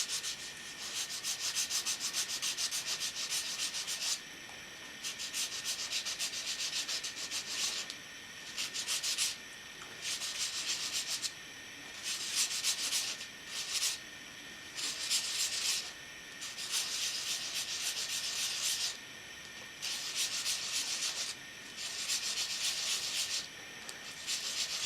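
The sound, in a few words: sanding model cleats for a road wear effect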